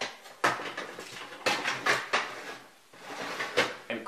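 A metal oven rack is handled and slid back into a kitchen oven, giving several sharp metallic clanks and scraping rattles at irregular intervals, close and fairly loud, with no voices.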